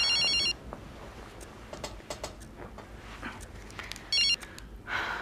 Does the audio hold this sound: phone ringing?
yes